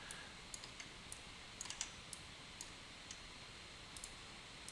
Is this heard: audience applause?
no